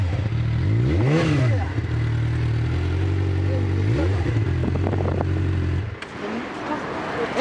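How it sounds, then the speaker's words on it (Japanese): A Suzuki GSX-R600 fuel-injected motorcycle engine runs close by, loud throughout, with throttle blips that rise and fall in pitch. The engine cuts off near the end. "エンジン音聞かせてもらえますか"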